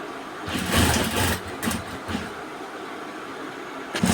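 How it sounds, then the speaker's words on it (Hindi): A sewing machine stitches elastic into the waistband of palazzo pants, whirring in short uneven runs that start and stop, loud and close, with no talking. "इसकी जड़ में मैं सिलाई लगा रहा हूँ कुछ इस तरह से, ताकि लास्टिक न दबे"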